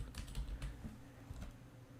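A coupon code is typed on a computer keyboard in a run of quick, soft key clicks, faint and close with no talking.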